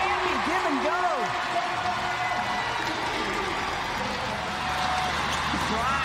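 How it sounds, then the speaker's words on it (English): A loud crowd roars steadily inside a basketball arena during a women's pro game, with sneaker squeaks cutting through and a commentator talking over the constant noise. "This crowd staying loud."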